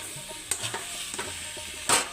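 Jackfruit curry with ghee, cardamom and cinnamon is stirred and sautéed in a pan at home, giving sharp spatula scrapes and clacks over a soft sizzle, with a louder scrape at the end and no voices.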